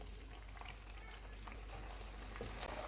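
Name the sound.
tomato puree and spices frying in the pan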